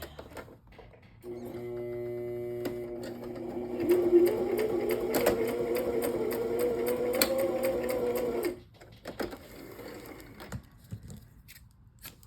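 A sewing machine runs a straight stitch through fabric in one steady, close whirring burst of about seven seconds, with faint clicks and handling noise before and after.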